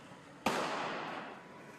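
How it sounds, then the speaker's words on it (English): A single sharp gunshot-like blast from police firing in a city street during a shootout with suspects, sudden and loud, followed by a long decaying echo off the buildings. "Then the heavy gunfire ensues, sparks in the streets."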